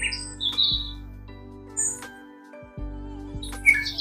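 Bird song nature sound played from a Sound Rise II alarm clock: scattered high chirps and tweets come in short bursts over a steady low hum, fairly quiet and alone with no talk.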